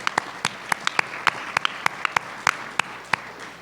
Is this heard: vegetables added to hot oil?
no